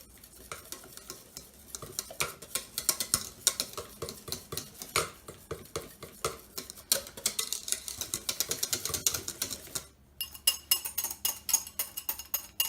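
Egg yolks being whisked into a pastel de nata custard filling: rapid, rhythmic clicking and scraping strokes of a whisk against a bowl, close and fairly loud, pausing briefly before resuming, with no voices.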